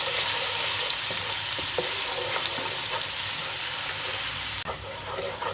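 Ginger garlic paste frying in hot oil in a pan, a continuous close, bright sizzle with occasional stirring clicks, then the hiss drops sharply near the end and continues more quietly.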